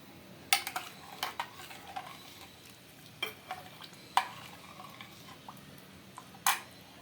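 Spoon scraping and clinking against a pot as kodo millet pulav with coconut milk is stirred, scattered sharp knocks at irregular intervals over a quiet background with no talk.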